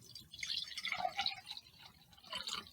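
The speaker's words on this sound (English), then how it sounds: "Now let's put in half a glass of water" Water poured into a drinking glass to about half full, a close, quiet, bubbly trickle with splashy gurgles running for a few seconds.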